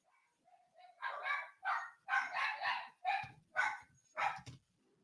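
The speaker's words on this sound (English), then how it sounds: "Pardon my dogs" Dogs bark in a burst of about six or seven close, moderately loud barks, with no talking.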